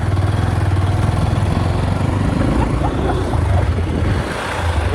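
A motorcycle engine rumbles steadily and loudly up close, a throbbing, continuous drone with slight variations in pitch.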